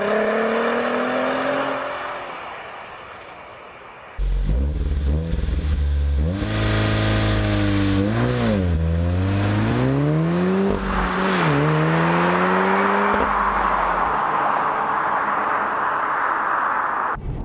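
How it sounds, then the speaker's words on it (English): A VW Golf R32 and a Golf R pull away hard one after the other, engines rising through loud revving sweeps with gear changes breaking the climb, close and dominant, fading into a rushing whir as they go. "Let's look at these two cars pulling away."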